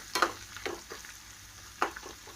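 Ginger and turmeric fry in a pan for bisibelebath, with a quiet sizzle under a few sharp stirring scrapes and taps spaced through the moment; no talking.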